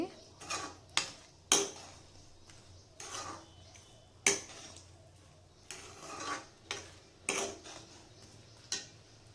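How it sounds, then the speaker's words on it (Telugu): A spoon stirring melting jaggery syrup in a pan makes sharp scraping clinks and taps against the metal at an uneven, unhurried pace, close and fairly quiet. "మొత్తం కరిగిన వరకు ఇలా కలుపుతూనే ఉండాలి"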